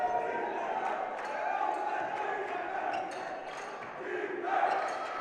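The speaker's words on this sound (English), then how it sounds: "Riordan fans already chanting defense" Riordan basketball fans at a CIF NorCal Division IV quarterfinal fill the gym with a steady, loud crowd roar and rhythmic chanting of defense, swelling slightly near the end amid court noise.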